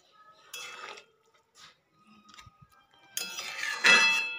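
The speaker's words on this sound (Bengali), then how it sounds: "মাছগুলোকে দিয়েও একটু হালকা হাতে নাড়িয়ে চাড়িয়ে নেব।" Fried shingi fish is gently stirred into a simmering curry in a pot, with close, intermittent clinks and scrapes of a spoon against the metal, separated by quiet gaps.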